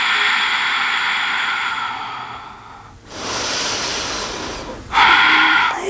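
Loud, heavy breaths during a core plank hold in an abdominal workout: a long exhale, a short pause, then another forceful breath, close to the mic with no talk.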